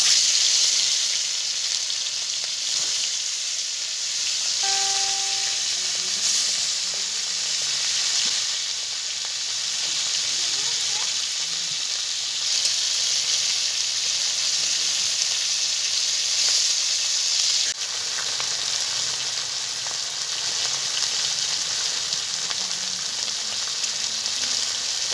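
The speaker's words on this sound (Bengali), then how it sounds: "গরম হয়ে গেছে, এখন মাছ ভেজে নেব।" Fish fried in hot oil in a home kitchen sizzles steadily and loudly for a long stretch, a constant bright crackling hiss with small bubbling variations and no talk.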